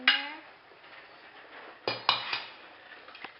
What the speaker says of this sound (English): we're just going to crack 2 eggs in here